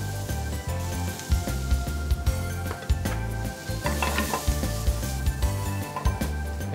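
Colourful capsicums hit a hot pan with onions for chicken fajitas, giving a continuous sizzle with the clatter of stirring and utensils scraping, loud and close throughout; no voices.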